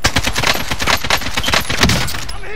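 Rapid AK rifle fire in the video game Warzone, a loud dense burst of shots rattling almost continuously for over two seconds before cutting off, close and forceful.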